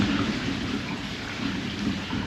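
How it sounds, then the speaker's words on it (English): Rain falls steadily outdoors with rumbling thunder, a dense continuous hiss of drops over low, rolling rumble at an even level. "We might have to move because of the rain."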